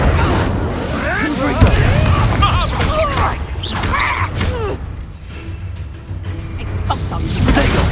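Spell-casting effects from the Hogwarts Legacy video game, an Incendio fire spell among bursts, whooshes and impacts, with a voice shouting spell names over loud, busy game combat audio.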